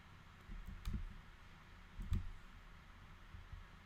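Computer mouse clicks during a shift-click drag on a stock chart, a few soft close clicks in quick pairs against a quiet room background.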